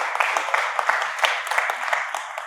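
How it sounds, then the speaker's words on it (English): A conference audience in Dubai claps steadily, a dense patter of many hands with scattered sharper claps, fairly close and continuous throughout. "So let's clap and cheer for our friend Ivo, for our brother."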